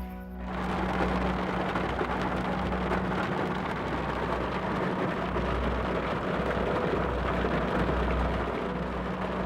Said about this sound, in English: it's actually starting to rain a little bit